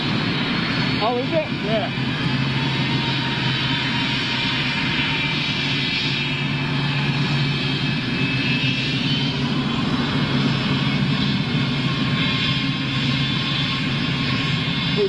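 A freighter jet drones overhead with a broad, sustained engine roar at steady loudness for the whole stretch, while people talk briefly beneath it.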